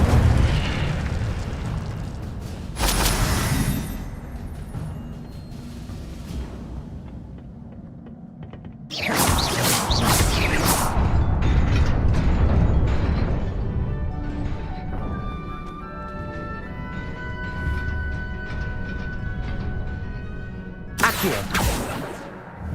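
An Incendio fire spell erupts with heavy booming bursts and rushing flame in a Harry Potter video game, loud and dense, with several explosive hits spread across the stretch.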